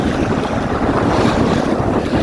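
Strong wind buffeting a small one-design sailboat out at sea, a loud, continuous roaring rush with waves mixed in, unbroken and with no voices.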